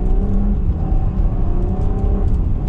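A 2020 Porsche Cayenne Coupe engine pulling in first gear under light throttle, a steady, fairly loud droning hum with rising tone from inside the cabin, no talk.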